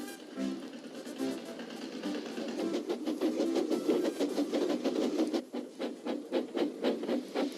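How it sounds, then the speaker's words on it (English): A tractor works a ploughed field in an animated scene, its engine chugging in a rough, rhythmic rasp that builds steadily and pulses in regular beats near the end. "a tractor was hard at work as Thomas puffed along."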